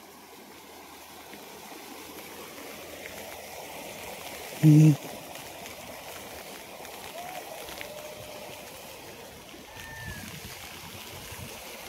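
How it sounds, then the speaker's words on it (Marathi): Floodwater rushes from a breach into a soybean field near the Karnataka–Maharashtra border, a steady loud flowing roar throughout with a brief sharp bump partway through. "हो का पाणी कसं मध्ये गेले सोयाबीन मध्ये"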